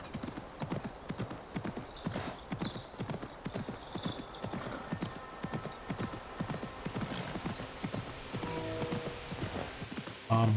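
A horse's hooves clip-clop at a steady walking rhythm in the video game Assassin's Creed Mirage, close and fairly quiet, with a light patter of ambient game sound beneath and no talk over it.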